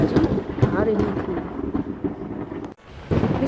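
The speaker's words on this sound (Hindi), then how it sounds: "घने बादलों से जोरदार बिजली की कड़कती हुई आवाज़ें आ रही थी।" Heavy thunder crashes and rumbles from dark, dense storm clouds, a loud, continuous roll that dips briefly near the end before surging back.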